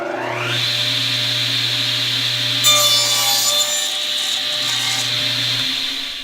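A Craftsman Model 113 radial arm saw hums steadily while its blade bites through wood, the pitch rising as the cut meets the board around the middle, then settling back to a constant motor drone until it winds down.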